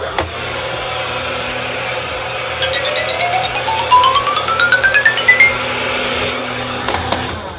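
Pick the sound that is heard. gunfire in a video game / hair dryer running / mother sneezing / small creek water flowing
hair dryer running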